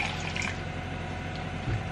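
Fresh orange juice pours steadily into a half pint glass for a smoothie, a continuous close liquid splash and gurgle with a soft bump near the end.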